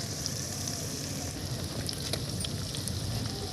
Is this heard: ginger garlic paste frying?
yes